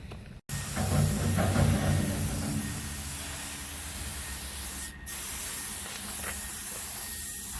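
A garden hose sprays water over a dirty vehicle that has gone unwashed for twenty years, producing a steady, close hiss with a brief interruption partway through.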